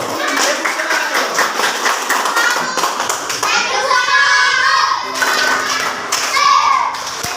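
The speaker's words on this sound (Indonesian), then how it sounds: "Tepuk tangan dulu." Schoolchildren in a multi-grade classroom clap their hands in unison on a teacher's cue, a burst of lively, uneven claps mixed with children's chatter and voices, loud and close.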